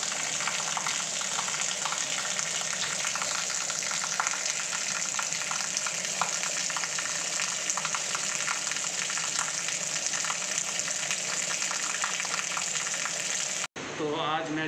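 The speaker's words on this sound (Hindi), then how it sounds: "पाइप के नीचे खड़े हो जाओ, पाइप की बहुत तेज पानी गिरता है" Strong stream of water gushing from a pipe during an outdoor bath, a constant loud rushing hiss that runs unbroken for many seconds before cutting off abruptly near the end.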